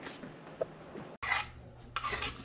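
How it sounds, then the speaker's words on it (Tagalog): Vegetables being sautéed in salted shrimp paste in a pan, soft scraping and stirring followed by bursts of louder sizzling hiss, close by. "Igigisa po niya sa bagong na alamang"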